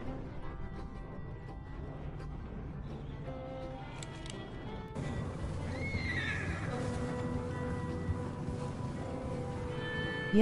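In Red Dead Redemption 2, a horse neighs and whinnies amid steady clip-clopping hooves, with a constant background hum; the scene has a synthetic, game-like quality.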